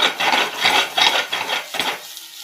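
Potato slices with turmeric and chili powder are stirred in a pan, giving close, rhythmic scraping strokes, about five in a row, with no talk.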